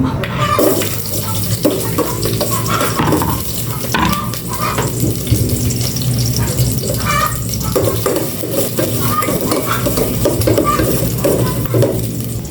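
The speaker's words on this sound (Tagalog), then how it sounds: "Gisa ko na po itong bawang." Garlic sautéing in oil in a pan, a continuous sizzle with scraping stirring strokes close by, steady and fairly loud throughout.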